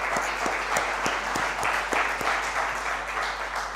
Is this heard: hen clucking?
no